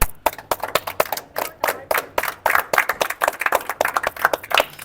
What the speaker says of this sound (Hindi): और एक बार ज़ोरदार तालियां हो जाए हमारे गेस्ट के लिए